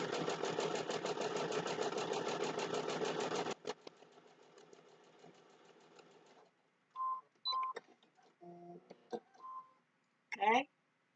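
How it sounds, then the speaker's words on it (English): A sewing machine stitching a Christmas table runner block runs in a steady fast close whir for a few seconds, then slows and stops, followed by a few short clicks and handling noises. "Okay, so we're gonna go ahead and sew."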